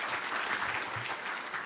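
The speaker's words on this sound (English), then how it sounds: "Oh, please don't clap for me." Audience applause at a university health sciences symposium, a steady wash of many hands clapping together that holds at an even level throughout the short stretch, with no voices over it.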